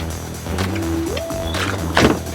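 A Tesla Model X door opening automatically, an electric motor whirring as it steps up in pitch, with a brief click and a soft thud near the end.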